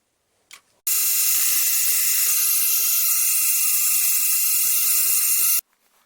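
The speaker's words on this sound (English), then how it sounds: "The holes for the adjusting screws are drilled and tapped." A drill cuts and taps holes for the adjusting screws in the body of a centring microscope, giving a loud, steady high whine that starts abruptly, runs about five seconds and cuts off cleanly, with nothing else heard.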